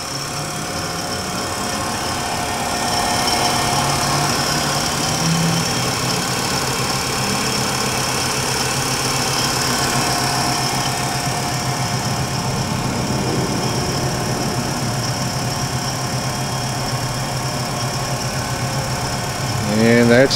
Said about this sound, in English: So I'll just start it up and we can hear the spindle.